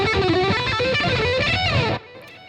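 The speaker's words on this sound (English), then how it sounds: "he would mostly use the bridge pickup," A fast picking run on a distorted electric guitar using the bridge pickup, bright and aggressive, lasting about two seconds before stopping abruptly into quiet.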